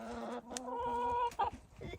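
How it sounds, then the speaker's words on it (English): Big farm roosters cluck nearby in a short run of loud, throaty calls, with a few sharp higher squawks near the end. "Now they're big roosters."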